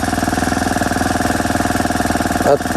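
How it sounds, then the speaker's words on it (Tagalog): A grass cutter engine idles close by, a steady rhythmic pulsing chug throughout, with a brief clunk near the end while a blade is fitted. "Ayan, at naglalagay po si Busing ng talim ng grass cutter"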